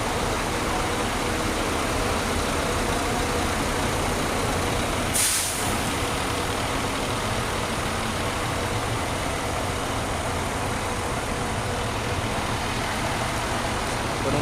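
A heavy bus engine idles with a steady low rumble, broken once by a brief sharp hiss of air brakes.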